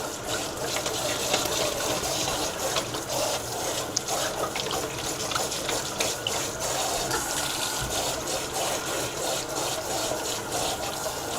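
Tap water runs steadily from a faucet into a sink while makeup brushes are rinsed, giving a continuous, close splashing gush with small clicks of handling.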